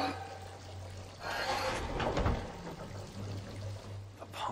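Water pours in Silent Hill Downpour, a rushing stream that swells in the middle and fades out, over a steady low hum.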